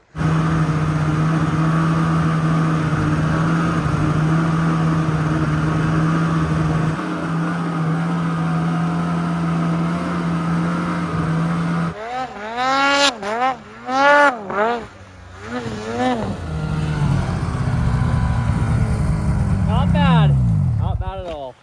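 A Polaris snowmobile engine drones steadily through a warm-up pull on a snowy trail, then rises and falls in quick revving sweeps near the microphone, with people talking over it.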